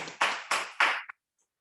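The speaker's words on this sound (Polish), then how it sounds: "te brawa wcale nie są nagrane" Live audience at the Mały Beton 2021 student competition awards ceremony gives three or four loud, evenly spaced bursts of clapping that stop abruptly into silence.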